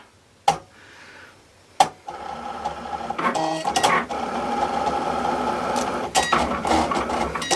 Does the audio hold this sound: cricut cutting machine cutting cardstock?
yes